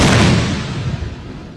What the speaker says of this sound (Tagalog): paminsan-minsang nagpapaputok ng kanyon ng mga sundalo sa mga pinaniniwalaang kuta ng bandidong grupo